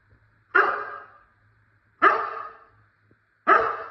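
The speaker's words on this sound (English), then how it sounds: "Now I'm making sure that it's every 3 barks" A dog gives three loud, close barks on command, evenly spaced about a second and a half apart with quiet gaps between, during a training session.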